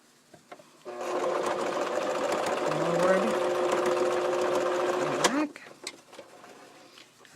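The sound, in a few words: sewing machine sewing forward and back on fabric flower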